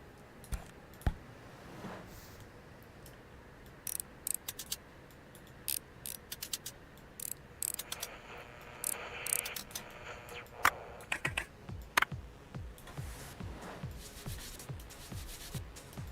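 Ratchet screwdriver in the video game ReStory, a series of quick sharp clicks in uneven bursts with rubbing mechanical noise between them, close and moderately loud with no talking.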